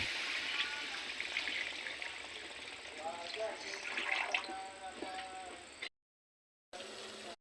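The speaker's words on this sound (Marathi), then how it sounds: "आता त्याच्यामध्ये पाणी टाकू मित्रांनो" Water being poured into a pan of spicy chicken curry, a steady splashing and trickling pour up close with speech-like voice traces over it, then a short silent break before the pouring resumes.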